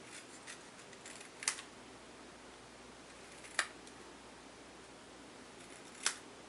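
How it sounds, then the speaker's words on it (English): Scissors make three sharp, isolated snips several seconds apart while trimming a stamped paper thank-you sentiment for a handmade card, faint and close over a quiet room hiss, with no talking. "I'm actually going to snip that down just a little bit tinier."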